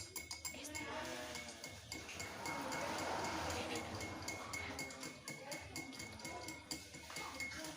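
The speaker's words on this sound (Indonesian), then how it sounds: "Aduk hingga merata." A spoon clinks and scrapes against a container as slaked lime is stirred in a simple endothermic and exothermic reaction experiment, soft repeated taps over a steady low background hum.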